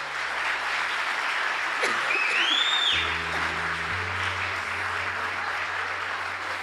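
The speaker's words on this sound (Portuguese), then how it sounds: "Pode aplaudir Jesus." Church congregation applauding during a worship service, a steady wash of clapping lasting throughout, with a low hum and a faint whistle-like tone in the background.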